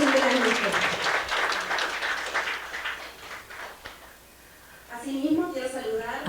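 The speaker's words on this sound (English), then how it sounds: "let's give them a round of applause." An audience at a regional education meeting's opening session applauds loudly for several seconds, the clapping fading out before a speaker's voice resumes.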